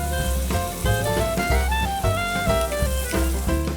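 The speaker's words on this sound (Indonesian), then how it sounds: "Kalau minyak sudah panas, masukkan bumbu halus yang sudah di blender tadi." A blended spice paste hits hot cooking oil and sizzles steadily for a few seconds, partly buried under louder tonal background music.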